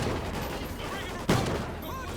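Call of Duty: Ghosts gunfire: one sharp, loud shot bursts out midway through a brief stretch of busy game sound and voices.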